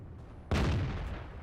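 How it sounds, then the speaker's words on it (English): A tank in World of Tanks fires a blind shot: one sudden heavy cannon blast that cuts in after a quiet moment and rumbles away over the next second, close and loud. "Takes a blind fire there"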